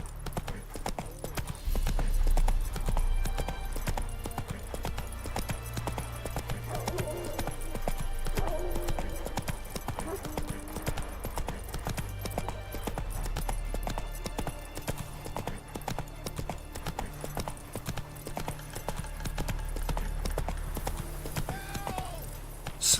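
Hooves of Roach, Geralt's horse in The Witcher 3 video game, clip-clop in a steady trot for the whole stretch, close and clear over a low rumbling music bed.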